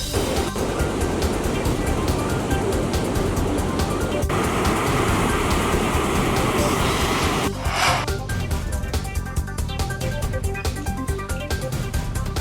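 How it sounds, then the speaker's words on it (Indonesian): High waves from coastal abrasion pound the western shore, a steady loud roar of surf running throughout, with a sharper break of rushing water near the eighth second. "Puluhan rumah di pesisir barat rusak diterjang ombak tinggi dampak abrasi pantai."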